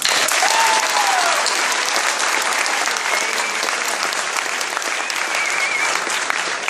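Graduation ceremony audience applauding staff and parents, a sustained, loud crowd of many hands clapping evenly in a large hall, with a few faint whistles over it.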